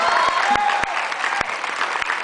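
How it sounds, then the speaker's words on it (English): A room full of people applauding at a speech event, sustained dense clapping with a few sharper individual claps standing out and a light whoop or voice rising briefly over it. "Please give them another round of applause."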